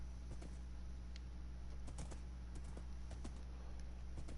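Blocky hoof clip-clops of a horse ridden in Minecraft, a steady series of soft, quick taps over a constant low game hum with no talking.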